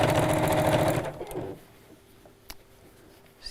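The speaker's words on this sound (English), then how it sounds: "So I'm just top stitching around the edge there." A sewing machine top-stitches around the edge of a woodland pouch bag, whirring in a loud, fast rhythmic burst for about a second before slowing and stopping, followed by faint clicks and handling noises.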